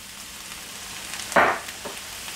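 Onions being stirred into a hot pan for a beef gratin, giving one brief scraping sizzle burst mid-clip and a fainter stir after, over a quiet background.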